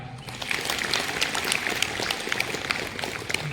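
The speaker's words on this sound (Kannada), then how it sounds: "ಮತ್ತೊಮ್ಮೆ ಚಪ್ಪಾಳೆ." An audience claps together at a Yoga Day celebration, a steady patter of many hands close by that keeps up at an even level throughout.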